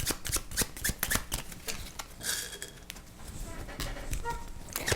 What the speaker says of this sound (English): Let's shuffle the AI deck.